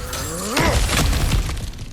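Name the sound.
object smashed in video game God of War Ragnarök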